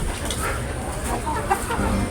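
Chickens clucking in a free-range chicken coop, several birds making close, overlapping short clucks and murmurs against a busy farmyard background.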